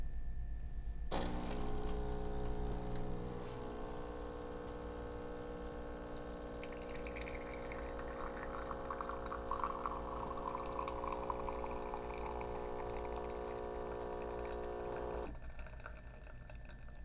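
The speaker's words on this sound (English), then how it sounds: "it doesn't put a lot of water in when the milk first starts to come out" A super automatic coffee machine dispenses water and milk with a steady pump hum and pouring stream, a pitched whine rising midway, running continuously for about fourteen seconds before cutting off, close and alone without talk.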